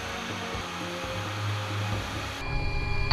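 A Rolls-Royce Adour Mk821 jet engine on a ground run, spooling from idle toward maximum, gives a broad, steady roar with a low rumbling drone that swells louder and harsher near the end.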